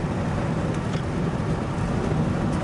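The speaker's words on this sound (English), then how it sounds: "There's a lot of wind noise." Steady broadband wind roar and road rumble fill the cab of a moving 1987 GMC Sierra 1500 pickup with a window partly open, constant and loud throughout with no talking.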